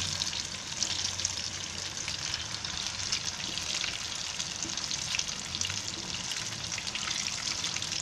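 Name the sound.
fish frying in hot oil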